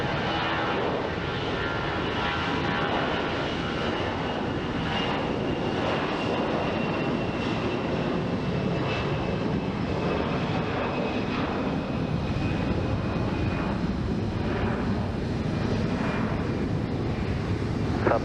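A jet airliner takes off at Phoenix Sky Harbor airport, its engines giving a loud, steady roar throughout with wind buffeting the microphone.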